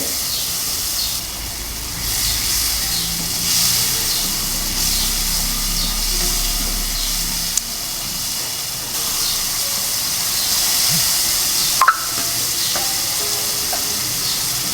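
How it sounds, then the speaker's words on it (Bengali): Masala frying in oil with a little water for a Bengali bacha fish curry, a steady close sizzle and hiss running throughout with faint stirring and a brief clink near the end. "কষিয়ে নেব ভালোভাবে যাতে মশলার কাঁচা ঘ্রাণ না থাকে"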